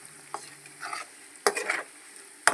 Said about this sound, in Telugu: ఇలా లైట్ బ్రౌన్ కలర్ వచ్చే వరకు ఫ్రై చేసుకోవాలి.